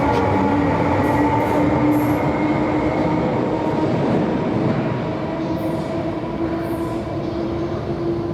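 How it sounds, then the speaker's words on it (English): A train rumbling steadily along the tracks, loud and close, with a sustained mechanical drone and occasional high squeals from the wheels. "The train has departed"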